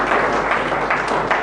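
A church congregation applauds during a sermon, steady dense clapping that fills the room at close range with no break.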